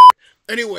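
A phone gives a short, loud electronic beep right at the start, followed after a brief pause by a person starting to talk.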